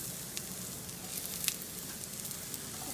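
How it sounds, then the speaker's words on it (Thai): Sliced shallots frying in hot oil in a pan, a steady soft sizzle with faint crackles and pops throughout, no voices. "หอมแดงเข้าไปเจียวหอมหอมมาเจ้า"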